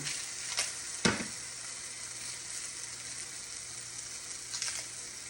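Onion frying in a pan for a creamy tomato pasta: a steady, soft sizzle with a low hum underneath and a couple of sharp clinks or taps standing out.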